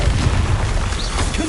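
A single sustained, loud, booming blast from the Confringo fire spell in the game Hogwarts Legacy, filling the whole short moment with dense roaring noise and no pause.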